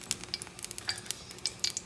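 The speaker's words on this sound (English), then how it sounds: "I'm going to put some oil, any type of oil you want" Oil heating at high heat in a hot cast iron pan. Sharp crackles and pops scatter across a quiet background, with soft scraping from stirring.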